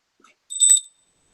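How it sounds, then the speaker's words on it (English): A Tunisian cowbell rung once as a timing signal at a talk, giving a single bright metallic clang with a ringing tone that decays quickly into silence. "I know this is a cowbell, Tunisian bell, just for the change."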